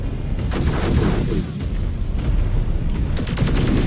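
A dense barrage of incoming missile explosions from MechWarrior 5: Clans, loud overlapping booms and blasts rolling nearly continuously with a few sharper hits, with no talk.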